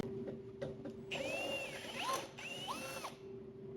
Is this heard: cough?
no